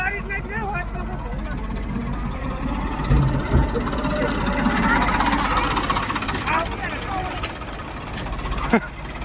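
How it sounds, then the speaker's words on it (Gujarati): A tractor engine runs nearby in a village, a steady low rumbling drone throughout, with people talking over it. "આ ટ્રેક્ટર આવી ગયું છે."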